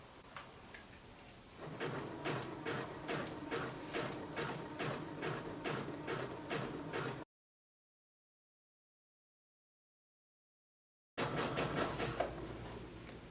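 Sewing machine running a wide zigzag stitch over cooking twine laid on fabric, a steady rapid ticking chatter of the needle that runs for several seconds, breaks into silence, then resumes briefly, close and clear with no talk.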